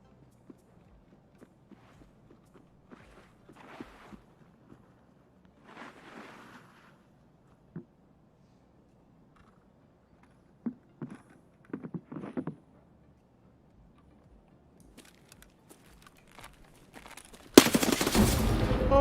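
Gunfire in a video game: scattered, faint single shots and short bursts at a distance, then a loud, dense burst near the end, with no talk over it.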